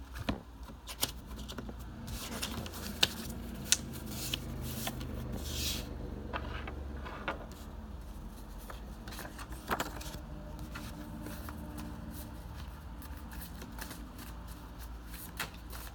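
Tarot cards riffled and shuffled repeatedly at close range, with soft papery flutters and occasional sharper snaps, fairly quiet against faint background noise.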